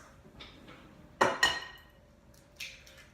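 Eggs cracked one after another against a bowl rim while mixing gluten-free banana bread, two sharp close knocks in quick succession followed by a lighter tap a moment later.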